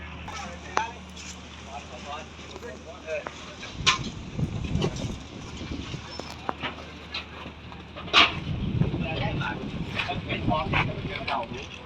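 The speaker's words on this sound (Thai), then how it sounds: "วันนี้มีลมนะ" Gusty outdoor wind buffets the microphone in low, rumbling surges, strongest in two bursts. People talk throughout and a dog barks briefly.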